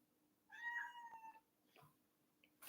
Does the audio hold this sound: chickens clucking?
no